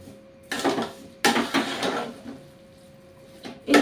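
A lid is set down on a cooking pot on the stove with two or three sharp metallic clanks and rattles. Quieter kitchen handling sounds follow in between.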